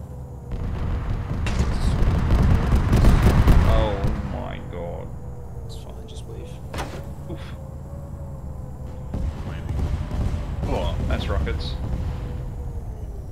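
Rumbling bomb explosions and booms in a co-op video game pile up in a loud burst, then scattered blasts and crackles continue beneath voices talking over them.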